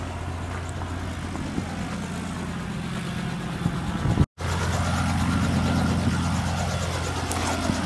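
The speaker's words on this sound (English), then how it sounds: "The car's coming." A car's engine hums steadily and close with a low drone, briefly cut off and then resuming at a similar level, no voices over it.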